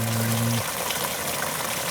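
Water runs steadily from a pipe, a broad even wash that continues throughout after a low tonal hum stops early on.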